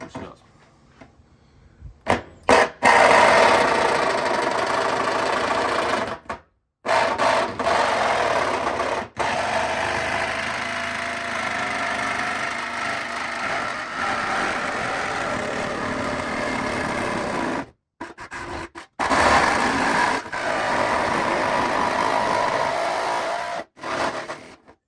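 Jigsaw cutting an opening in a Toyota body panel for a snorkel install, starting from a 12mm hole: a steady buzzing saw runs for long stretches, broken by a few short pauses, loud and close.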